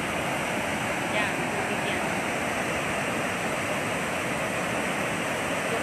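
Torrent of floodwater released from Magat Dam during Typhoon Ulysses, a loud, steady, unbroken roar of rushing water filling the whole clip with no pauses.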